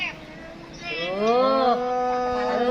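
A cow on a farm, visited on a school field trip, gives a drawn-out moo close by against a steady background hum.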